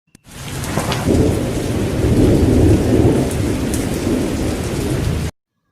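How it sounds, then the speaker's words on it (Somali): Heavy rain pours down steadily with thunder rumbling through it, a loud, dense roar that starts abruptly and continues unbroken for several seconds, with no voices. "roob aad u daran da'ayay"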